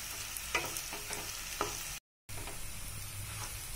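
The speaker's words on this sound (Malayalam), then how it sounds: "നന്നായി നമ്മൾ ഇളക്കി കൊടുത്ത് ഇളക്കി കൊടുത്ത് ഇത് വഴറ്റിയെടുക്കണം." Onions and chili sautéing with a pinch of turmeric in a pan for a chicken dish, a close, even sizzle broken by a few spatula scrapes and taps, with one brief drop to silence.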